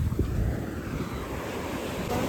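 Ocean surf washing continuously onto the shore, a steady broadband rush with wind buffeting the microphone throughout, no voices present.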